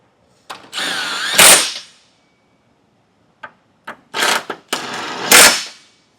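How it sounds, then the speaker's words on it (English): A power tool snugs nuts onto trailer hitch bolts while a hidden hitch receiver is installed: a loud whirring burst, a pause, then a few short blips and a second sustained whir, all close up. "I'm going to put a nut on both sides and snug it down."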